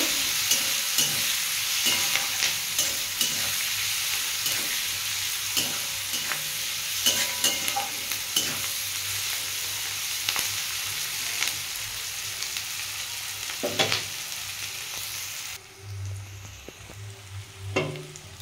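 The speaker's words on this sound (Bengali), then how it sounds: "পেঁয়াজটা আমি ভালো করে ভেজে নেব" Onions with a little turmeric fry in a pan while being stirred, a continuous close sizzle with rhythmic scraping strokes, dropping to a quieter hiss near the end, with no talking.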